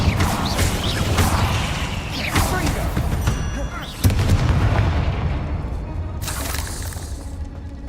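Incendio fire spells cast in Hogwarts Legacy, sounding as a few loud, bursting blasts with booming low rumble over dense game background sound, with voices nearby.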